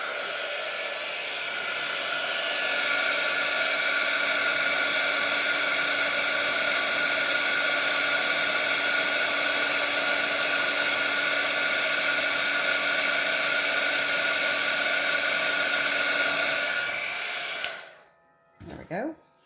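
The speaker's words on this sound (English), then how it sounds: "I'm going to get my heat tool, and this is going to be loud, so I'm not going to talk while I'm melting this" A heat tool melts embossing powder on a handmade Christmas card, a steady loud blowing whoosh like a hair dryer that runs unbroken for about seventeen seconds, then cuts off abruptly.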